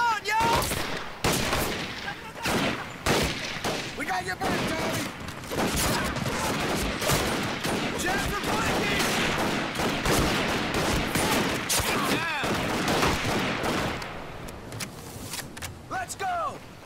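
Dense, continuous gunfire rages in the Pacific war video game Medal of Honor: Pacific Assault during a night raid on Makin Atoll, rapid bursts and volleys overlapping almost without pause, loud and close, with a voice speaking over the battle.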